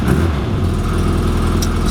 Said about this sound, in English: hear that tapping coming from the engine bay